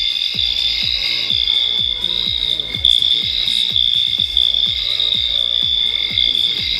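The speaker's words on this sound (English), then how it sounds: "the bottom microswitch is activated and will activate the rising wing sound" Spirit Halloween PKE meter toy playing its rising wing sound effect, a steady high electronic whine over rapid repeating mechanical ticks, continuous and close.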